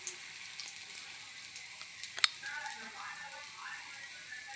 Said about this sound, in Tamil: இப்போது மேலே நெய் விட்டுக்கலாம்